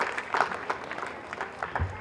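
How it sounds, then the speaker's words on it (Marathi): A school audience at a festival gathering claps for a guest in a continuous, moderately loud patter of many hands, with a brief low rumble near the end. "आम्हाला जोरदार टाळ्या चेतन सरांसाठी"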